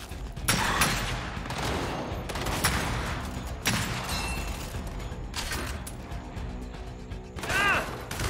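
Bursts of rapid gunfire from Gears 5, Hive Busters DLC on Xbox Series X, cut down a sentry, with several loud volleys separated by brief lulls over a busy mechanical backdrop.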